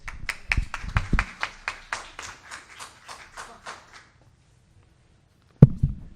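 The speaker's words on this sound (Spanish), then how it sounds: "Lo recibimos con fuertes aplausos." Sparse hand claps from a small audience welcoming an emergency-service physician before a medical lecture, about a dozen separate claps fading out over four seconds, then a single sharp tap near the end.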